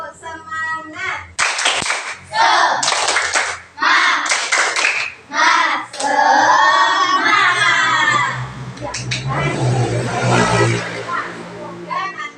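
Schoolchildren in a classroom perform rhythmic spirit clapping: quick, loud bursts of group claps in a patterned beat, followed by excited children's voices and chatter.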